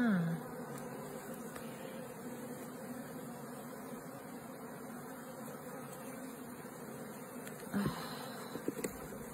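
Honey bees swarm around an open beehive, a steady close buzzing drone that fills the whole stretch with a few brief louder passes near the end.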